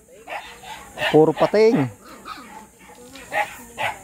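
Dogs bark and yip on a fishing outing after Typhoon Aghon, a few short barks mixed in with loud nearby talking.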